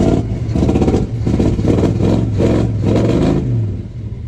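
A 1964 Buick Wildcat engine with carbon-fouled spark plugs runs nearby, pulsing in rough, uneven surges and revving up and down over a few seconds, loud and close with no talk.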